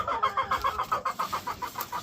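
A breeding game-farm hen clucks in a quick, even run of about a dozen close, clear clucks, each short and evenly spaced.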